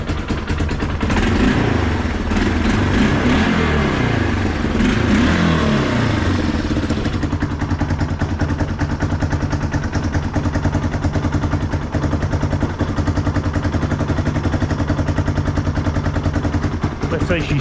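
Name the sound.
carburetted Yamaha Big Bear 350 ATV engine running and revving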